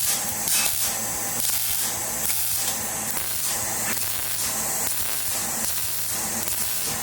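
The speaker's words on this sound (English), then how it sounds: "I finished cutting and started welding it" Welding on the exhaust pipe of a cammed police car being straight-piped, a steady, close hissing crackle that runs unbroken for seven seconds beneath a low droning hum, with no talking.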